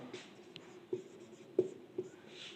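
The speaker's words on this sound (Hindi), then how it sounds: "हम लिखेंगे" Quiet writing on a board during a lesson: a few soft taps and strokes of chalk or marker, close and faint, with no voice over them.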